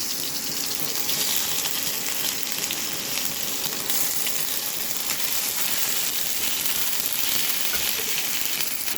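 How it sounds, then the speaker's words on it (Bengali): Tomatoes frying in oil after a panch phoron tempering, a dense continuous hiss and sizzle, close and even in loudness throughout, with no talking. "ফোড়ন দিয়ে টমেটোগুলো একটু ভাজতে দিয়েছি"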